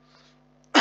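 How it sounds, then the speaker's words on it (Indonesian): A single sharp cough or sneeze-like burst comes from a person at close range near the end, loud and brief, following near-silence with a faint steady hum. "Batuk lagi."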